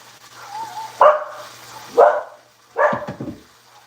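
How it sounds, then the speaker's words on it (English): Puppies give three sharp barks spaced about a second apart, loud and near, in an otherwise quiet yard. "Do you hear my puppies?"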